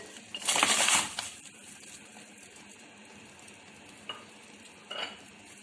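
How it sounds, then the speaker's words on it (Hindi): Goat trotters and goat brains drop into a pot of boiling salted water, giving one loud splashing burst near the start, then two small, quick plops or clinks against a quiet, steady background. No one speaks. "और इसी उबलते हुए पानी में पाए शामिल करूंगी।"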